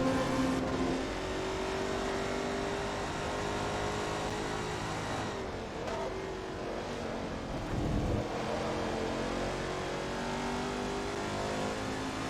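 Deep, throaty growl of a Team Panos Esperante in Forza Motorsport 2, engine held loud and steady through gear changes, with a brief swell and dip of revs near the end.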